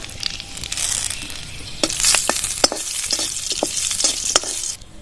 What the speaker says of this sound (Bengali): বেঁচে থাকা ফুলকপির তেলে আমি শুকনো লঙ্কা একটা নিয়েছি তেজপাতা দুটো দারচিনি এক দুটো এলাচ আর দুটো লবঙ্গ ফোড়নের জন্য দিয়ে দেবো